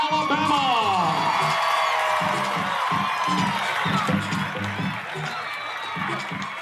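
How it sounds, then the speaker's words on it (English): A large crowd at a Babe Ruth All Stars opening ceremony claps and cheers to welcome a T-ball team, a dense roar of applause with whoops that slowly eases off. "Folks, put your hands together and let's welcome the 5-year-olds from Westside, Alabama."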